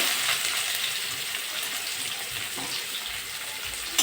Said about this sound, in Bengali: আমি এবার পেঁয়াজ দিয়ে দেবো।